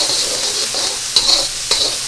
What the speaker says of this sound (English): let's put the garlic in